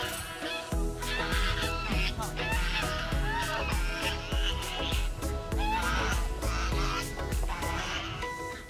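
Geese on a farm honk loudly and repeatedly, overlapping harsh calls in a dense, continuous clamour close by, with no pause across the whole stretch.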